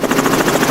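A helicopter at a university microgravity drop test gives off a steady, loud rotor and engine drone with a faint regular pulsing, and no one speaks over it.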